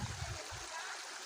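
Stream water rushing at Palabanahaw Falls on a forest hiking trail, a constant loud hiss of flowing water with a couple of brief low thumps at the start.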